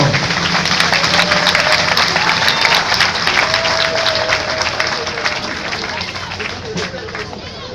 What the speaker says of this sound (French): je voudrais qu'on applaudisse bien fort Madame Mati Diouf, adjointe au maire de Lys.